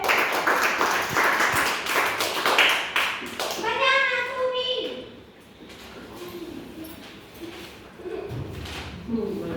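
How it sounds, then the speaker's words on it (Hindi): Children in a learning session clap together in a quick burst of sharp overlapping claps, then it fades as a voice and other speech follow. "तो सभी ताली बजाओ पहले"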